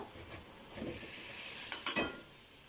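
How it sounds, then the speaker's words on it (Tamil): Cloves, cardamom and fennel sautéing in oil for chicken biryani: a soft, steady sizzle with a few light stirring scrapes and a brief louder clatter near the end, no talking. "கிராம்பு, ஏலக்காய், சோம்பு இதெல்லாமே ஆயிலில் வதக்கிட்டு இருக்கேன்"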